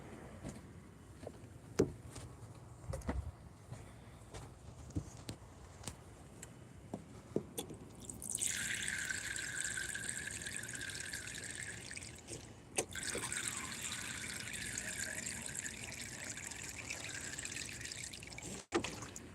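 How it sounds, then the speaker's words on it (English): Clean water pours steadily into a bird water dish outdoors, a bright splashing stream that starts partway through, breaks off briefly and then resumes at a steady level over a faint background. "Well, we're going to fill that back up with clean water."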